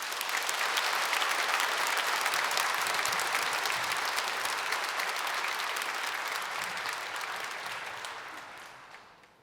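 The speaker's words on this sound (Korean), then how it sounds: "하나님께 영광의 박수를 한번 올려드립시다." A church congregation applauds during a Sunday service, a dense, sustained wash of clapping from a large crowd that holds steady and then tapers off toward the end.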